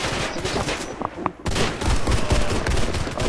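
Rapid bursts of gunfire ring out in the Warface video game, a dense fusillade that pauses briefly before a loud, sustained volley resumes.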